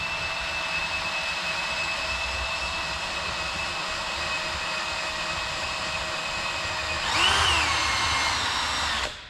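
A drill spinning an eraser wheel strips leftover glue from the body of a Chevrolet Silverado RST truck, a steady high-pitched whir that runs continuously, then briefly shifts pitch under load before cutting off, close and loud with no speech.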